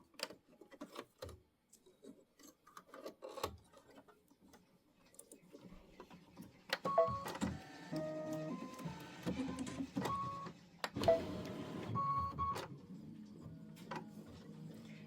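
A computerized embroidery machine stitching out a quilt block template hums and taps in a rapid mechanical rhythm, starting partway through after scattered quiet clicks and then running steadily at moderate volume.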